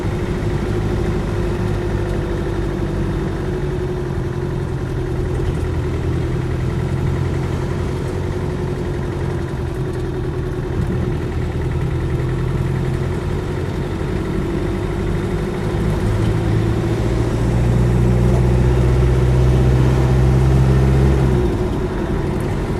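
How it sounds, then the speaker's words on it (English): A Land Rover 110 station wagon with the 300TDi diesel engine pulls away from very low revs in third gear, giving a steady low diesel drone that swells gradually toward the end, close and without speech. "Very torquey, pulling away there from very low revs in third gear."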